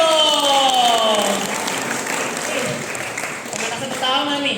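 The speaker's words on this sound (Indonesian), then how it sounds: "Beri tepuk tangannya meriah dong" Audience applause rises before the main performance at a student theatre show by Teater Tiyang Alit, steady and full throughout, with a host's voice and cheering layered over the clapping.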